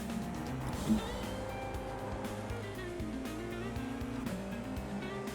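A Formula 4 race car lapping Silverstone, its engine holding a steady, buzzing drone close by, with the pitch rising and falling gently as the throttle is fed in, continuous for the whole stretch with no talking.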